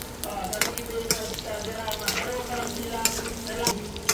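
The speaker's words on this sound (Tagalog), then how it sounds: "Ilagay na po natin yung bawang, luya, then sibuyas. Ayan. Gigisa natin." Garlic, ginger and onion sauté in a hot oiled pan for paksiw na bangus with liempo, a steady crackling sizzle broken by sharp scrapes and clicks of stirring, close and fairly loud.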